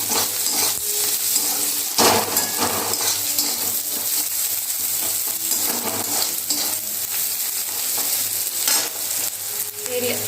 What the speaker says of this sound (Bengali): পেঁয়াজগুলো একটু লাল লাল হোক।